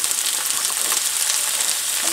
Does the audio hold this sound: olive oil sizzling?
yes